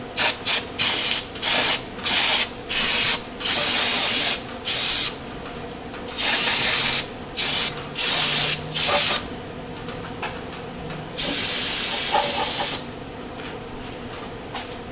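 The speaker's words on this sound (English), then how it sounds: "Do a little brake cleaner here." Brake cleaner sprayed from an aerosol can onto Brembo brakes on a 4th-generation Trans Am/Camaro: a run of short hissing bursts, then a longer sustained blast, close up with no talking.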